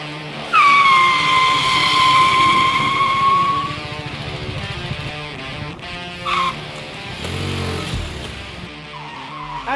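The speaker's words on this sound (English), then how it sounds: "ABS makes a huge difference when it comes to stopping distance and also the way the bike actually reacts to emergency braking" Motorcycle emergency braking at a safety system demonstration, run with and without ABS: a loud engine roar carries a long tire squeal lasting about three seconds, then a second brief squeal follows amid ongoing engine noise.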